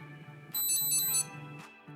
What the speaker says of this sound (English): The Edge device beeps again when another vehicle is detected.